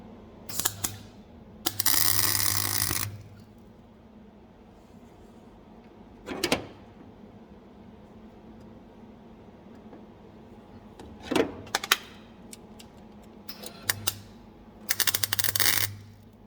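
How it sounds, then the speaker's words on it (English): Several short bursts of crackling MIG-style tack welding as a repair panel is fixed on a Fiat Punto GT, each lasting a second or so and separated by quieter pauses. "Let's just tack that in a couple of little places just so we can get it finished to be lined up."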